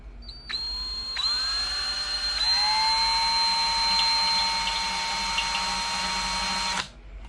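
Power drill boring through a metal motorcycle rim for a rim lock on a Hawk 250 EFI, a steady high whine that ramps up in pitch in steps, loud and close, running about six seconds alone.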